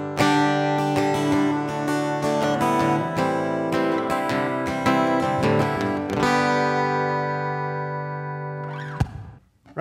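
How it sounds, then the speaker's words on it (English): Acoustic guitar played through an undersaddle pickup gives a rubbery, plugged-in live tone, with strummed and picked chords ringing out loudly for about nine seconds before cutting off. "We're just kind of used to hearing that live kind of rubbery sound"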